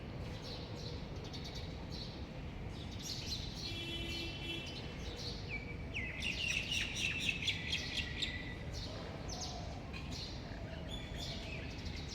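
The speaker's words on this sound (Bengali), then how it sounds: "সকালবেলা পাখির ডাক শুনতে খুব ভালো লাগে" Birds chirp and tweet through a quiet morning, bright calls scattered over a steady low rumble of distant background noise, with a denser burst of song near the middle.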